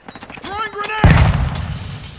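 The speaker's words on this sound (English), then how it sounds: "Throwing grenade." Grenade explosion in the Modern Warfare video game: a loud, deep boom bursts in after a short stretch of rising tones and game noise, then rumbles and fades over the next second.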